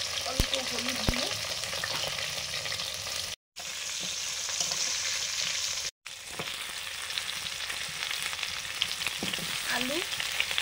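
Pointed gourd pieces fry in hot oil with a little turmeric, a continuous close sizzle with scraping stir strokes, broken by two brief dropouts, and a faint voice underneath.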